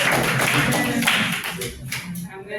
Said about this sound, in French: Applaudissez là, s'il vous plaît.